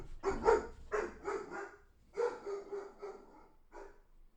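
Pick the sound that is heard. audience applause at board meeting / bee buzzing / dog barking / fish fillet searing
dog barking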